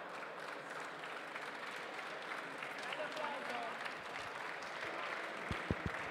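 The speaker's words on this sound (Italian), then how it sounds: "un grande applauso" Audience applause at an awards ceremony on a main stage, a dense, steady wash of clapping that holds at an even level throughout, with a few sharper claps near the end.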